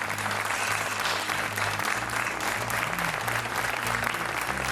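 Dense, steady studio audience applause greets a guest on a television quiz show, loud and continuous from start to finish, with a low musical or room hum beneath it.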